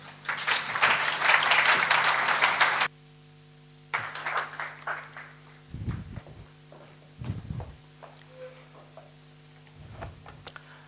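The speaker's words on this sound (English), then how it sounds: "A round of applause, please" Audience at a clean audit and governance seminar applauds in a burst of dense, fairly close clapping that cuts off abruptly, followed by scattered later claps and thumps with a faint tone.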